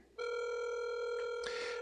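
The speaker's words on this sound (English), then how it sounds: "I'll give him a ring." Steady electronic telephone tone sounds continuously during a call, loud and unbroken, with a brief brighter burst near the end.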